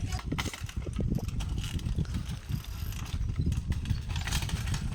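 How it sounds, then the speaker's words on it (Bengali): A motorcycle engine during a wheelie, heard as a rough, throbbing motor with uneven pulsing revs and mechanical rattle, fairly close over steady outdoor noise. "এসেই বলছে যে আমি একটা হুইলি মারবো"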